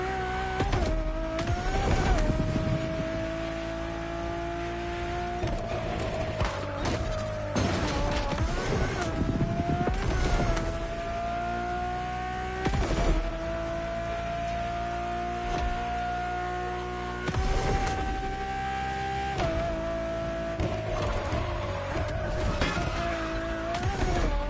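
A Ferrari road-legal Formula One car by Pininfarina drives in The Crew Motorfest, its high-revving engine whining close and loud, rising through gears with brief drops at each shift and occasional tire noise.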